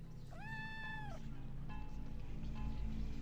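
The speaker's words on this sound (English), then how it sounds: "I'm meowing at the top of my lungs, pretending the echoes belong to someone I used to know" A single drawn-out, whining meow from the Judge, a cat character in the video game OFF, rising and holding clearly for about a second over a low droning game soundtrack, followed by fainter echoing tones.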